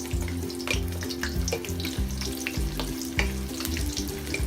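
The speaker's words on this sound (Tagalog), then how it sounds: "So, hintayin lang natin siya guys na mag-iwahiwalay ang ating sibuyas. So, i-fry lang natin siya ng bahagya." Onions frying in oil in a pan for Filipino beef steak give a steady close sizzle, with low rhythmic bumping and scraping beneath it and no voices.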